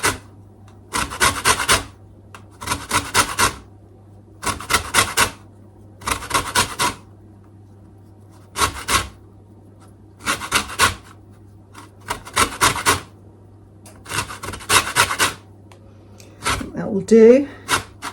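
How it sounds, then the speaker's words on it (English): A lemon is zested on a grater in a home kitchen. Several bursts of rhythmic scraping strokes come close up, separated by short pauses. A brief spoken remark comes near the end. "I'm zesting the lemon."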